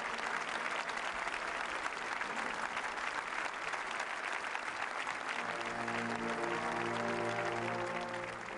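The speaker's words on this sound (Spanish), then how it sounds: "Fueron momentos de gran ovación y entusiasmo generalizado." A large crowd's sustained ovation at a beatification ceremony, a dense, continuous wash of applause and cheering, with a tonal hum of music or chanting rising underneath in the later seconds.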